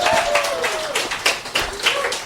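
A poetry club audience claps together, producing a dense burst of applause that surges, thins, and swells again with sharp individual claps standing out near the listener.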